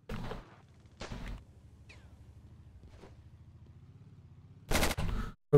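Heavy .50 cal machine gun fire in the Ravenfield video game, three loud bursts of rapid rounds separated by gaps, with a low engine-like rumble droning underneath.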